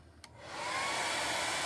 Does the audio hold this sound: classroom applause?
no